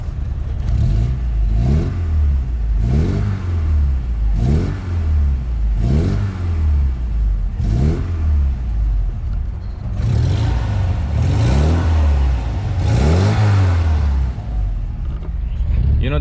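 A 1979 Alfa Romeo Alfetta with a 2.0 engine revs up repeatedly, loud and close, each blip climbing then dropping back in a steady rhythm of roughly a dozen revs.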